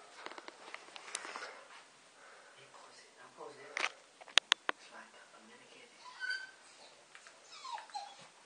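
A dog trying to open a door gives faint, high whimpers and whines among soft scrabbling and sniffing, while people talk quietly nearby.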